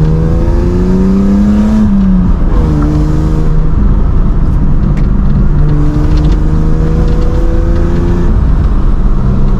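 A BMW E36 fitted with Maxpeedingrods T7 coilovers drives with a loud, steady engine drone close by, the pitch rising and falling through gear changes.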